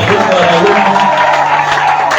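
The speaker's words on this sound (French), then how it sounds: "voir les acclamations de vainqueurs." Church congregation at a deliverance seminar cheering and applauding together, a dense steady roar of voices and clapping filling the whole moment, loud and close.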